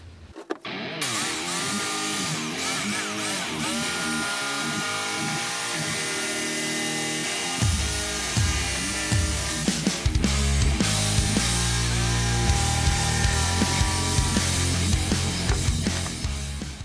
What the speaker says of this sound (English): after using a jigsaw to roughly cut up the sheet of MDF